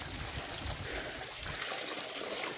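Natural stream water trickles and gurgles in a jungle, a steady close wash of running water with no voices.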